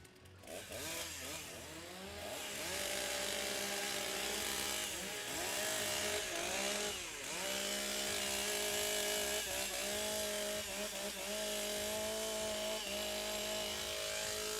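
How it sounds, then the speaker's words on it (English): STIHL chainsaws warm up at a timbersports championship, several saws revving loudly and continuously with rising and falling pitch sweeps as throttles are blipped, close and dominant with no talk. "Warm up the saws."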